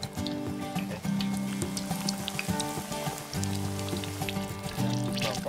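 Apple fritters bubble and sizzle steadily in hot oil, a dense crackling fry that stays close and continuous, with low hum-like tones running underneath.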